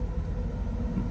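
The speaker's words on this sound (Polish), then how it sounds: "Autobus przejechał." A steady low rumble of a large vehicle rolling past nearby, a continuous heavy drone with no voices.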